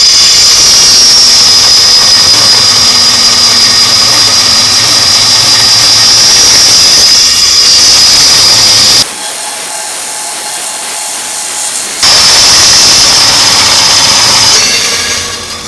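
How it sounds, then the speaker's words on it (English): Vertical bandsaw cutting 80-20 aluminum extrusion: a loud, steady high-pitched machine whine with grinding cut noise, briefly dropping out midway before the sawing resumes at full level. "We just used the vertical bandsaw to cut this rough edge."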